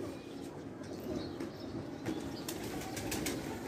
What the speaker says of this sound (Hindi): कबूतर हमारे उठे और गए।